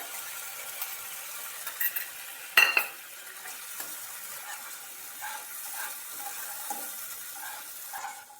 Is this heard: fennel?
yes